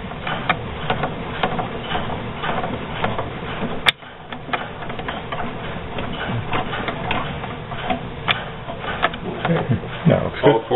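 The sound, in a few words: PMC drop mechanism cam lobes cycling against roller pin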